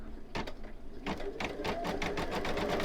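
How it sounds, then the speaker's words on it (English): An embroidery machine stitches a stuffed toy, its needle hammering in rapid rhythmic bursts over a steady motor hum, loud and close. "Oh, it's doing like a double stitch."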